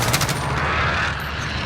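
Loud, sustained automatic fire from a Kilo 141 rifle in Call of Duty, a continuous rattling roar with no talk over it.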